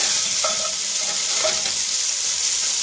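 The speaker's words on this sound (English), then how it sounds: "Let me stir up our kielbasa here. And can you hear it sizzling?" Kielbasa sizzles loudly in a pan with garlic as it is stirred, a steady close frying hiss with a couple of brief utensil scrapes and no voices.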